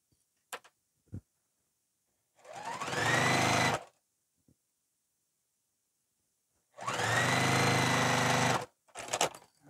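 A sewing machine stitches a 3/8 inch seam along a bag lining in two fast whirring bursts separated by a pause, with small clicks of handling around them, close and clear.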